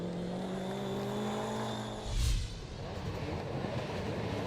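Rallycross race cars at Lydden Hill during a British Rallycross Championship race give a continuous engine roar, with one car passing close and loud about halfway through before fading into a distant drone.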